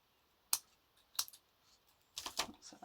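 A few sharp snips of scissors cutting paper, three quick clusters of crisp clicks in a quiet room, close by with no talking.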